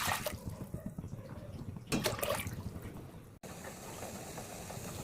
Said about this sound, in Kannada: ನೋಡಿ ನೀರು ಚೆನ್ನಾಗಿ ಕುದೀತಾ ಇದೆ.